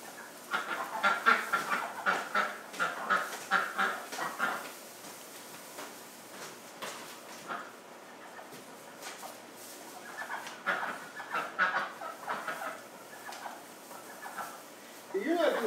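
A duck kept in a hospital quacks and clucks in repeated bursts close by, going quiet for a few seconds midway before calling again, with a person's voice talking to it at times.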